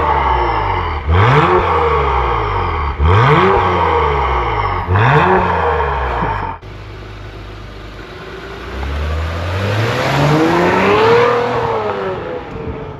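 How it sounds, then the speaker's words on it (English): A 2023 Acura TLX Type S V6 engine with stock exhaust revs hard three times in quick succession, each rising and falling, then settles into a lower rumble that swells again, loud and close. "the tone of the exhaust sounds pretty good"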